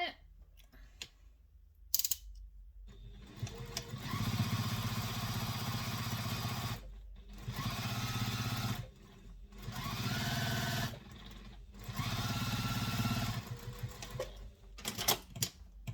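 A sewing machine stitches across a folded seam on a vinyl or waterproof canvas handbag, running in several steady whirring bursts of a few seconds each, separated by brief pauses and clicks, close up.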